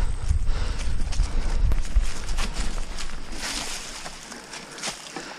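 Hooves clop in an uneven walking rhythm on a hard surface, fairly close, with outdoor noise around and no talking.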